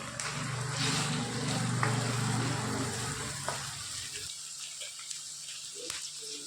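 Tomatoes and green chillies land on lightly browned onions in a hot pan, giving a loud, steady sizzle with stirring that drops to a quieter simmering crackle partway through.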